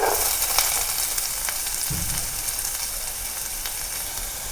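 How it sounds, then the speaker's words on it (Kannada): Sliced onions fry with mustard seeds and curry leaves in hot oil for a spicy mushroom curry, giving a steady, bright sizzle with an occasional scrape as the pan is stirred. "ಈಗ ಇದನ್ನು ತಿರುಗಿಸ್ಕೊಂಡು ನೀಟಾಗಿ ಫ್ರೈ ಮಾಡ್ಕೊಳ್ಳೋಣ, ಕಲರ್ ಚೇಂಜ್ ಆಗೋ ತನಕ"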